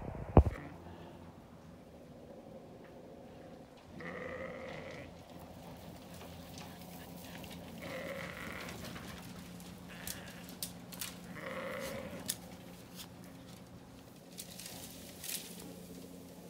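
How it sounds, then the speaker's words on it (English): Sheep and lambs on a farm bleat several times at moderate distance, spaced calls rising over a quiet outdoor background with light pattering. "There's another lamb."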